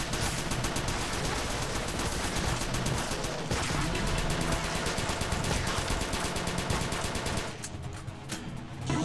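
Plasma minigun from the Crimsonland shooter game firing in a dense, unbroken rapid stream of shots, loud and continuous for most of the stretch before easing off near the end, with no voice over it.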